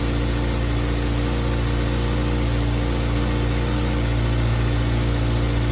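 A 2023 Kawasaki ZX6R race bike engine warms up at a steady, fairly high idle, loud and close, holding a continuous even drone throughout with no revving.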